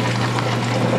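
A Whirlpool washing machine drains its water in a steady, continuous rush with a low hum underneath, close and fairly loud, with no talking.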